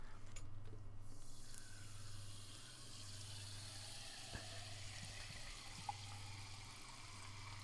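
Liquid pours steadily with a low fizzing rush, continuous throughout with a couple of faint clinks, no voices.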